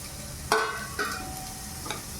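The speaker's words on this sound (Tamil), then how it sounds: "கடைசியாக நம்ம வந்து நல்லெண்ணெயில் சூடான பிறகு இந்த பிரண்டையை போட்டுக்கலாம்." Pirandai frying in hot sesame oil, a crackling sizzle with two sharp spoon stirs against the pan, close and alone.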